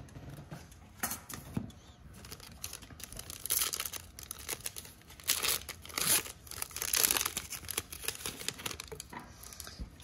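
Foil trading card packs from a Chronicles Draft Pick blaster box are torn open and handled, giving irregular crinkling and ripping bursts, close and moderately loud, with no talk.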